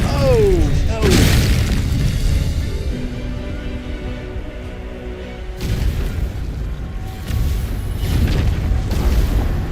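Fireworks explode in Baldur's Gate 3, with loud, booming bursts and crackling in waves and whistling rising tones at the start.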